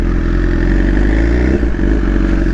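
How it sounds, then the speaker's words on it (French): A loud, steady BMW S1000RR motorcycle engine with a full Akrapovic exhaust droning while riding, with constant rumble and a clattering undertone, heard up close without talk. "je sais pas si vous m'entendez bien tellement la moto fait de bruit"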